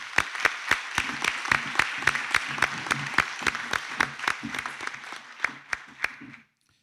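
A graduation ceremony audience applauds the graduates with sparse, individual claps at a steady rhythm, each sharp and distinct over a faint background of crowd noise, the clapping thinning out toward the end before stopping abruptly.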